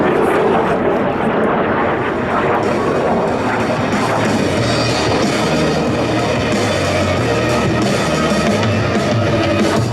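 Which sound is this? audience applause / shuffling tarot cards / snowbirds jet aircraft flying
snowbirds jet aircraft flying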